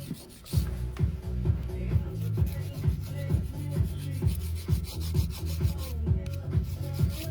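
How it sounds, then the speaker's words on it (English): A touch-up nail file rasps along the sides of stiletto nails in quick, regular back-and-forth strokes, close and clear, with no talking. "I'm going to use my touch-up file"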